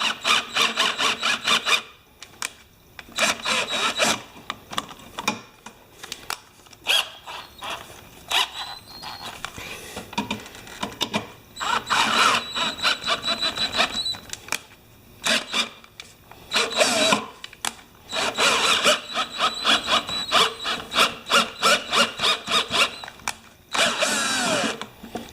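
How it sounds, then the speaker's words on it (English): A 5/16 thread being tapped into a 1/4 inch hole on an old Yard Machines mower part, heard as bursts of whirring, grinding power-tool work with short pauses between them, close and fairly loud. "I'm going to try and tap a 5/16 into this 1/4 inch hole."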